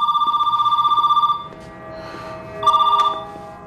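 A telephone bell rings in two bursts, a long trilling ring, a short pause, then a second, briefer ring, clear and close in a quiet room.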